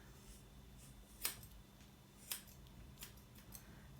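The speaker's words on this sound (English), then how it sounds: "There's the end of a tail, so I'm going to cut it off somewhere along here." Scissors snip through a Havanese dog's tail hair during a grooming trim, giving a few sharp, quiet cuts spaced about a second apart in a calm room.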